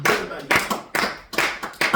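A church congregation applauds in short bursts of clapping, four or five loud rhythmic waves of hands close by.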